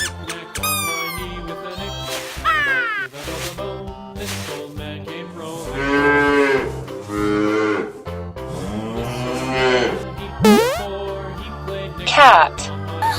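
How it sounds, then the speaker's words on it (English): A cow mooing over playful music, several long drawn-out moos swelling and fading, loud and close, mixed with squeaky sound effects. "Cow."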